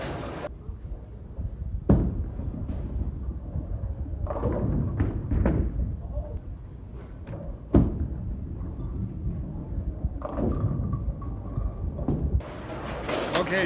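A bowling ball rolls down the lane on a pin-up short-pin layout and crashes into the pins, with sharp thuds and clattering bursts near 2, 8 and 12 seconds over steady rumbling alley noise.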